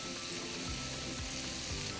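Quiet sizzling from a pan during home cooking of chicken saray sarması, a low continuous fry with faint scraping stirs and a sharp clatter at the very end.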